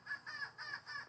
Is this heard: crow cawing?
yes